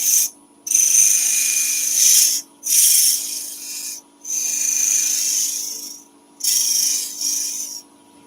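A wooden spinning top turning on a lathe has small grooves cut into it, giving a loud, bright rasping hiss in repeated bursts of a second or two, separated by brief pauses.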